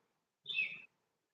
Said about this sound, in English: Besides the birds.